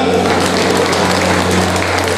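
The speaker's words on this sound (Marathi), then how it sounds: "टाळ्या वाजवू शकता सगळे लोक" An audience at a school alumni meet in an MP Hall claps in a dense, continuous burst of applause that stays loud and even throughout, with an electrical hum underneath.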